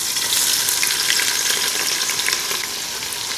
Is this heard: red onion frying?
yes